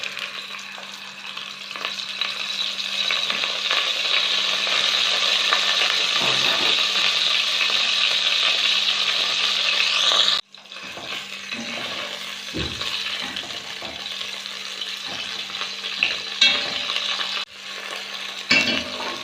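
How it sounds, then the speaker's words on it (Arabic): Loud, steady sizzle of chicken breast pieces frying in hot oil in a pot, continuous for about ten seconds, then a sharp break followed by a busier crackle with scattered stirring knocks. "درت شوية تاع الزيت ندير عليها هذاك ربع تاع الدجاج تاع صدر الدجاج"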